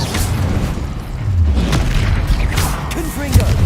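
Incendio fire spell being cast in Hogwarts Legacy, booming whooshes and thuds over continuous low battle rumble, with brief vocal sounds near the end.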